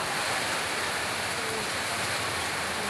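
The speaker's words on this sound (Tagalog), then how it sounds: "Ulan. Ulan na siya. Ulan na naman." Rain falling outdoors, a steady, even wash of broadband hiss that stays constant throughout without voices.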